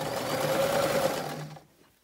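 A sewing machine runs in one steady close burst, stitching a fabric face mask seam, then stops abruptly and falls silent.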